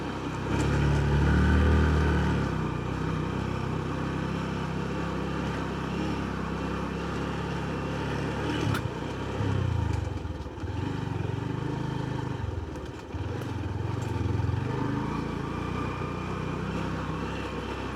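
A Honda Verza motorcycle climbs a mountain road, its engine a steady droning rumble that swells and eases with the throttle, close and continuous with no talking.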